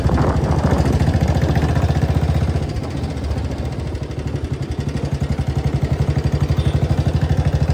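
An old Royal Enfield Bullet motorcycle with a loose part and a noise coming from the engine head runs steadily, its loud, close engine thumping in a rapid, even rhythm with no talking.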